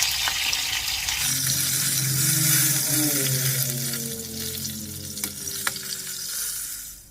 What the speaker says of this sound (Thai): พอเราทอดไก่เป็นสีเหลืองน้ำตาลแล้วนะคะ